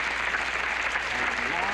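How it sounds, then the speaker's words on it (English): Studio audience applause at a 1974 televised fund-raiser, a dense, steady roar of clapping with a faint voice beneath. "a big round of applause for all those people on the telephones"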